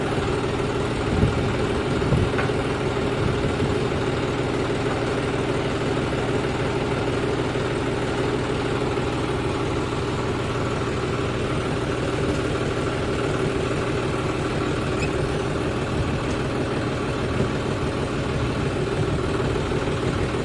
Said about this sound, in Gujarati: હાલો ટ્રેક્ટર છૂટું